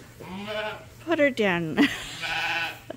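A sheep on a farm bleats several times close by, wavering cries in quick succession, with a person briefly speaking between them.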